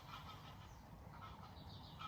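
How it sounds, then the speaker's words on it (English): Faint honking of geese flying overhead, distant and low behind steady outdoor background noise in a rose garden. "Can hear the geese in the background flying overhead."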